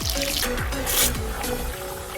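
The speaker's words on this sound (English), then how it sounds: "now we'll go ahead and wash the black sand out" Black aquarium sand is washed in a bucket of water, with sloshing, trickling and dripping, low thumps of handled sand and one brighter splashing swell in the middle.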